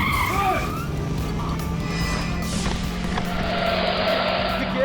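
A car in a courtroom drama scene starts and drives off on its own, the engine roaring with tire squeal and skidding, loud and continuous for several seconds.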